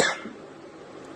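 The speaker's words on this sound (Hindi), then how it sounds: "एक तो खांसी इतनी ज़बरदस्त हो रही है," A single short cough close to the microphone, followed by quiet.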